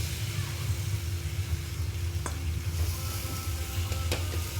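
Pointed gourd frying in a pan with ground peanut paste, turmeric and chili powder, stirred with a steady hiss of sizzling and a couple of sharp utensil scrapes against the pan.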